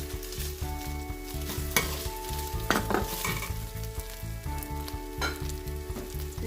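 Red onion sizzles in a little olive oil in a pan, a fairly quiet, continuous fry broken by a few sharper scrapes and clinks as it is stirred.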